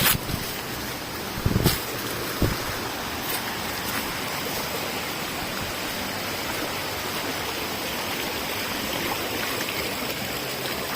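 River water flowing at a popular swimming spot, a steady broadband rush heard nearby with a few brief knocks and splashes early on and no talk.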